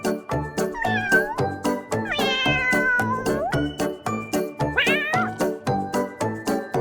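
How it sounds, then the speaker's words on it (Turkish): Several cats meow over and over, their cries overlapping with drawn-out wails, against a steady rhythmic clatter. "Miyav miyav kediler."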